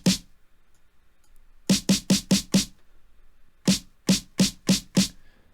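A snare drum sample, pitched up in FL Studio, hits in two quick runs of five crisp, sharp cracks separated by silence, loud and close with no talking.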